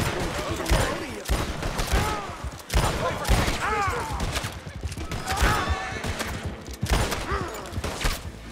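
Bursts of rapid gunfire in Red Dead Redemption 2 crack repeatedly, mixed with electronic game sounds and a voice talking intermittently through the barrage.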